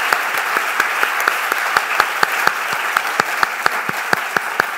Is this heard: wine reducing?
no